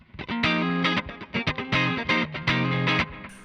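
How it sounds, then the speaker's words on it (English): Clean, funky electric guitar rhythm on the neck pickup of a Line 6 DT25 112 tube combo, short choppy chord stabs in a syncopated pattern, close and alone with no talk. "if I put it to neck pickup for kind of clean, funky rhythm stuff"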